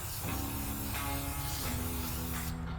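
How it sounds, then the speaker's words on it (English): A steady hiss of Pam cooking oil spray onto a pizza rack runs for a couple of seconds, close and continuous, then cuts off abruptly. "Get some Pam Spray. I'm gonna spray this right here."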